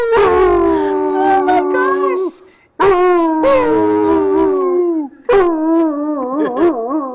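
A dog howls in three long drawn-out bursts with short pauses between, the last one wavering; a person briefly exclaims.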